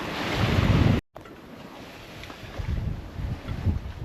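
Wind and water noise aboard a sailing boat on the Atlantic in about 10.5 knots of breeze, making around 6 knots: a steady broadband rush with low swells, briefly cut out partway through.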